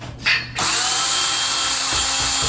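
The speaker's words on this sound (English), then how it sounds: "I'm going to drill it through the drywall" A power drill with a small bit bores through drywall in a bathroom, a short click and whir then a sustained high-pitched motor whine, loud and close.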